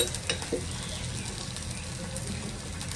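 A little more oil hits a hot pan, giving a faint, steady sizzle with a couple of soft clinks near the start.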